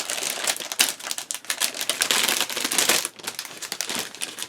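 Plastic bags holding model kit sprues for a 1:35 scale Rye Field Model Tiger I crinkle and rustle close by in rapid, uneven bursts with a brief lull near the end.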